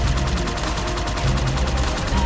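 Rapid enemy gunfire rattles through a Halo 2 campaign battle, dense, continuous and loud over a low rumble of game sound.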